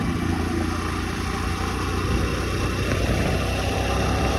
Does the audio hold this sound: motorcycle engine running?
yes